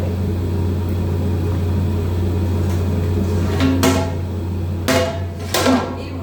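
A heavy cooking pot lid clanks and knocks in a few sharp metallic hits late on, over a steady low kitchen hum.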